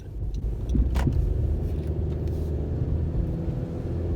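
A Honda CR-V pulls away under acceleration, a continuous low engine rumble and road noise heard from inside the cabin, steady and fairly loud throughout, with no one speaking.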